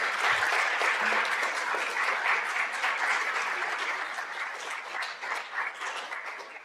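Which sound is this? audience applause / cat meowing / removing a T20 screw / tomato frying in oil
audience applause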